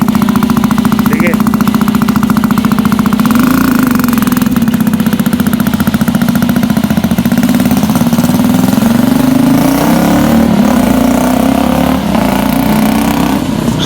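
A Benelli Motobi Evo 200 motorcycle idling loud and close with a newly fitted aftermarket exhaust pipe, a steady deep throb holding throughout, with a slight rise in revs partway through and voices talking over it.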